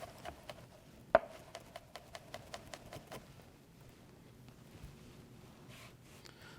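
A knife dices garlic on a cutting board in a steady run of soft, rapid taps with one sharper knock, then the tapping fades into faint background noise.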